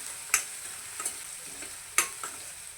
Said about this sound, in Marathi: या ठिकाणी कांदा छान असा परतवला गेला आहे